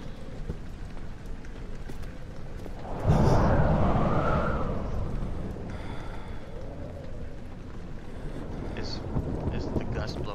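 In Amnesia The Dark Descent, a heavy gust of wind surges up over a constant rainy, blustery ambience as a door is blown open, swelling loudly then slowly dying back into the steady background rumble.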